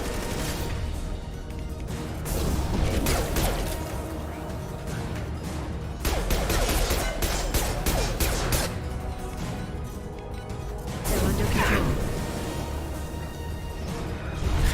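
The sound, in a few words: pistol gunfire in the video game Mass Effect 2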